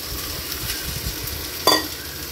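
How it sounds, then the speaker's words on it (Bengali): Poppy seed paste fried and stirred in a pan: a faint continuous sizzle with one sharp spatula scrape close by partway through. "পোস্ত বাটাটা একটু কষিয়ে নিতে হবে"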